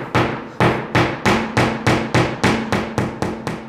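A hammer punches holes into a wall while searching for a stud, about a dozen loud, close, evenly spaced blows in a steady rhythm.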